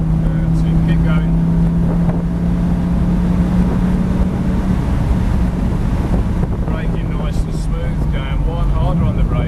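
A Lamborghini Gallardo accelerating on a track: a steady engine drone under heavy wind buffeting, its pitch climbing toward the end, with faint voices in the background.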